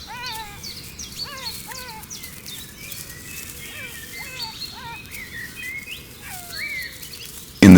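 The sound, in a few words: birdsong and insects at dawn on the Botswana steppe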